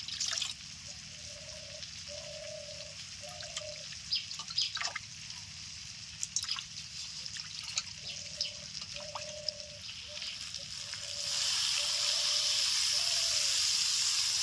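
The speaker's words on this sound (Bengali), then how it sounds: "একটু জল দিয়ে দিচ্ছি" Water goes into a pan of Bihari-style chicken curry after the masala has been fried down. A quiet background with repeating soft tones gives way near the end to a louder, steady rushing hiss.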